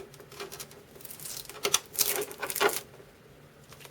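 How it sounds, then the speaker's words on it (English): A warranty sticker is peeled off a PlayStation 3 console, making a short, close, soft crackling and tearing patter that builds into a few louder rips toward the end, with no talk. "So you're going to just have to peel this off"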